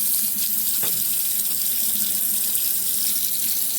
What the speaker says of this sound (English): Turn that water back on.